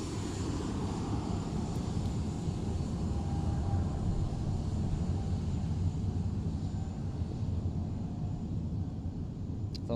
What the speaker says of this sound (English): So this is an 8-year-old aircraft.